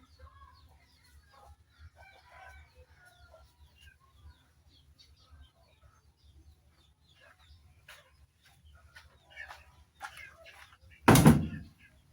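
Backyard chickens and young chicks cluck and chirp softly near a water drinker, with a rooster call and low voices in the background, ending in a loud, brief clatter.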